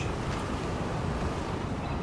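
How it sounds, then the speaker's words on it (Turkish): Storm wind and crashing waves on the Paracel Storm map of Battlefield 4, a dense, loud, continuous roar of gusting wind and surf with no pauses. "Oğlum fena fırtına çıktı lan."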